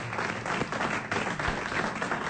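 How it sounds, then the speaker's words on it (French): A French radio studio audience applauds a guest, a brief, even burst of clapping heard alone. "Monsieur Quid, on vous remercie, on vous applaudit."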